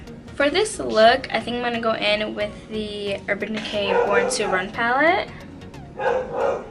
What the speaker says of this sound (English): they probably see another dog and they're barking